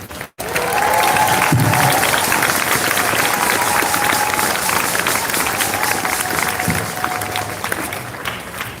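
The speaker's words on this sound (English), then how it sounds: "So let's give him a warm round of applause," A crowd at a solidarity march event in Denver breaks into applause after a brief pause, clapping and noise holding steady and loud for several seconds and tapering slightly near the end, with some voices mixed in.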